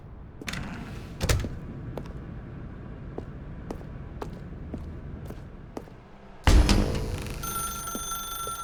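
A phone in The Stanley Parable sits among scattered clicks and knocks, with a sharp burst of ringing bell-like tones arriving near the end, fairly loud against a quiet background.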